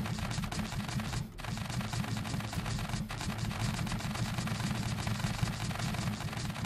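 Rapid, continuous cannon fire in the video game Scrap Mechanic, shots blurring into a dense, steady barrage with a brief dip partway through.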